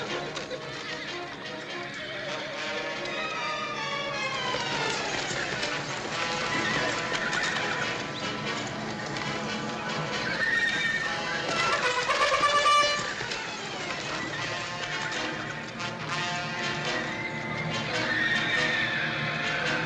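Horses on a dusty Western trail whinny and neigh repeatedly while hooves clip-clop steadily underneath, a busy, continuous herd sound with a brief voice mixed in.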